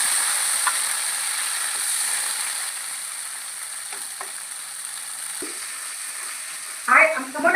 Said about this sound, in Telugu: ఇప్పుడు బాగా ఆయిల్ హీట్ అయ్యాక టమాటో ముక్కలు వేసేసాను